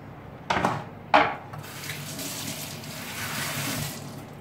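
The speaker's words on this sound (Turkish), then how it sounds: "ellerimi yıkadım" A running kitchen tap with hands being washed under it, two sharp splashes followed by a steady, moderately quiet stream of water.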